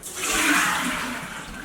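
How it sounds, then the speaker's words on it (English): Water gushes out as soaked beans are drained, a loud continuous rushing pour that holds steady and eases off slightly toward the end, with no talking. "I'm going to drain the water."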